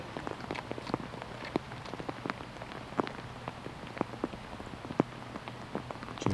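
Steady rain patters on the ground during a disc golf round at the Rocket City Blast, a dense, even hiss of drops with scattered sharper taps, continuous and close with no talk.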